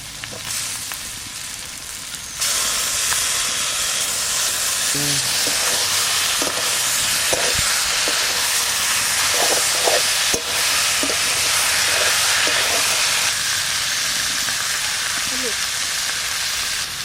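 Taro leaves dropped into a hot pan where crab has been frying, setting off a sudden louder, broad hissing sizzle that continues steadily alongside occasional stirring clinks; a voice speaks briefly at first.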